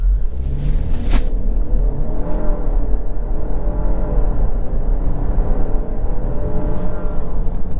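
A 2023 Jeep Grand Cherokee 4xe Summit Reserve plug-in hybrid pulls away from a standstill, giving a continuous loud engine and electric-motor whir with rising drone and road noise, heard from inside the cabin.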